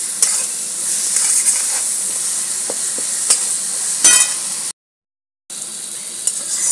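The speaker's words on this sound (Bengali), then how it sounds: "মশলাটা দিয়ে ভালো করে কষছি" Spice paste and tomatoes fry steadily in oil for a Bengali halua fish curry, a continuous close sizzle and hiss with occasional scraping stirs and a brief silent gap near the end.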